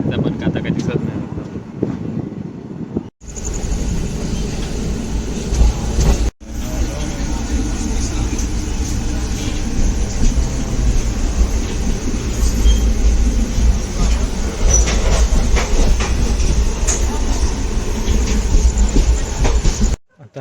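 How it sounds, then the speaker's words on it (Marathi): The Madgaon–Ahmedabad special train runs at night on the Konkan Railway, a loud, steady rumble and rattle of the carriage with rhythmic wheel clatter, heard from inside while someone talks over it. "आता मी ट्रेन पकडली आहे ती मडगाव अहमदाबाद स्पेशल म्हणा ना"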